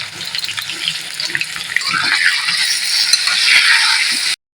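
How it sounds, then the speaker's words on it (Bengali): Potatoes frying in mustard oil in a kadai, seasoned with a little salt and turmeric, give a steady bright sizzle that builds slightly louder before stopping abruptly. "কড়াইতে আমি সর্ষের তেল দিয়ে দিলাম আর এখন আমি আলুটা কষে নেব"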